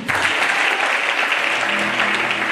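A church congregation bursts into loud, sustained applause acclaiming Jesus at a Sunday service, a dense wash of clapping with faint cheering and voices beneath it throughout.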